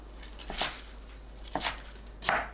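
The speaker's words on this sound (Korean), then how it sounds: "실파를 3cm 길이로 썰어주세요." A knife chops scallions into 3cm lengths on a board, with three distinct, fairly soft cuts spaced about a second apart and a quiet background between them.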